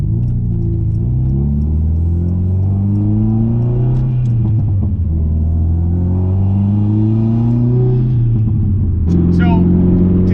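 Subaru STi being driven, its engine droning loud and close with rising and falling pitch through gear changes, revving up and easing off across the drive; a voice speaks over the engine noise.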